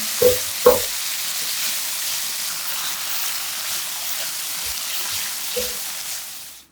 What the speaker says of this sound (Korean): 숙주와 꽈리고추 바로 넣고 골고루 삼겹살과 섞어서 강한 열기에 아삭하게 빠르게 볶아냅니다